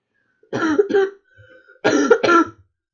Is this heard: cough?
yes